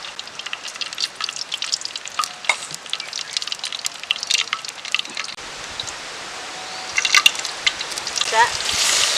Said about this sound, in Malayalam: ഇനി ഇത് കടുക് വറുക്കണം.